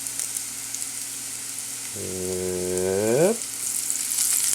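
Food frying in olive oil in a pan, with the heat turned down to medium-low: a continuous close sizzle and hiss, while a voice briefly speaks a single short word partway through.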